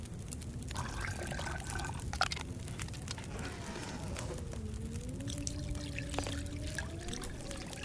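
Water heating for herbal tea in the survival video game The Long Dark, a steady bubbling and trickling wash with soft gliding tones drifting beneath it, continuous and moderately quiet.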